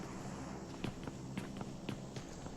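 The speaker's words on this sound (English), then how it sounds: "Hearing footsteps." Footsteps in a competitive battle royale-style video game scrim, a run of soft, regular thuds at close range with no voices over them.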